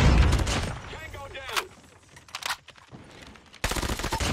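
The OTs 9 gun fires in a video game in rapid bursts, with loud clusters of shots at the start and a sustained burst near the end, separated by quieter stretches of game sound.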